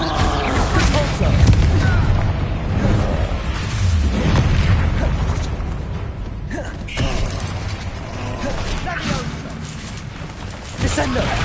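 Repulsor spell blasts in the Hogwarts Legacy video game, booming, creaking magical bursts over a dense, loud combat soundscape, with a voice speaking at times.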